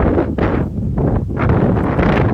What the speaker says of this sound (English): I know it's a little windy out here.